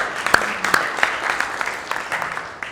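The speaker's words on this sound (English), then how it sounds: "Give him a round of applause for admitting that" Audience applause at a gutter industry sales summit, a moderate wash of many hands clapping with a few louder close claps standing out, steady for a few seconds before easing off.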